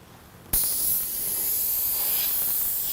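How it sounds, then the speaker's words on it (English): After a brief quiet moment, an airbrush spraying Createx paint bursts into a steady, close hissing spray that continues to the end. "we're going to do a little bit of spraying"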